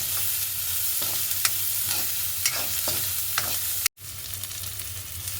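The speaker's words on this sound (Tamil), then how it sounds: "அப்படியே கொஞ்சம் வதங்கி கொண்டு வேற இருக்க பம்பையில் கருவப்பம்பில் எல்லாத்தையுமே சேர்த்து வதக்க போகிறோம்" Onions and curry leaves sauté in a hot pan, producing a steady close sizzle and crackle broken by occasional scraping stirs, with a brief dropout near the end.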